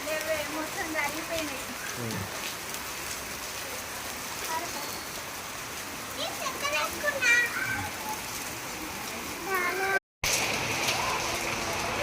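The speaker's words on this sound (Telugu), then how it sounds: "చూడండి వర్షం పడుతుంది" A hailstorm outdoors, with hail and rain falling in a steady dense patter across surfaces while children's voices and other talk sound over it, briefly cut out near the end.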